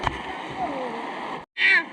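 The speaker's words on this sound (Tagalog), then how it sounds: "Tatawid muna kami ng ilog." Water splashes as people wade across a river near a landslide site in Barangay Kantagnos. The splashing is steady and close, stops briefly, then returns in a louder burst, with voices faintly under it.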